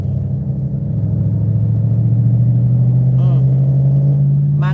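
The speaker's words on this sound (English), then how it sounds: "But that fucking Dodge sounds like shit." A Dodge truck engine idles in a steady low rumble, loud and close, with a brief higher whine near the end and no voices.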